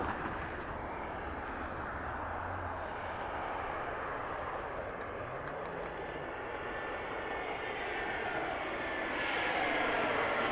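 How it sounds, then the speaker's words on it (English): A Frontier Airlines passenger jet landing at Harry Reid International Airport in Las Vegas, its engine roar steady and broad throughout, growing slightly louder near the end as it passes closer. "Oh, we got an incoming. So we have a Frontier flight coming in."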